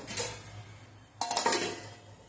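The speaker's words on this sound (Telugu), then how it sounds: "ఉప్పు వేసేసి ఇప్పుడు మూత పెట్టేద్దాం" A metal lid set onto a cooking pot of salted water for semiya upma: a light clink, then a louder rattling clatter of several quick metallic hits as it settles, close by with no voices.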